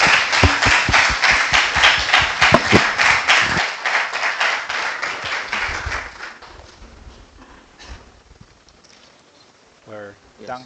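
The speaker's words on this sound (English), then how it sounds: "Please give a huge round of applause for Professor Hitao." An audience applauds after a university lecture on DNA nanomaterials, a loud burst of clapping close by that thins out and fades over several seconds, with a voice speaking briefly at the end.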